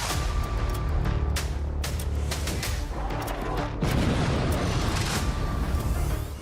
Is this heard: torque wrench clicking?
no